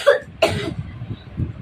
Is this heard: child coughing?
yes